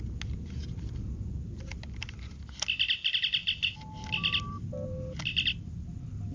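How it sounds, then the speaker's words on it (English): Star Trek communicator prop, a Roddenberry.com version with Hallmark electronics, gives short electronic chirps when flicked open, several bursts in a row over a steady low background hum. "you can get that short chirp if you just flick it a bit."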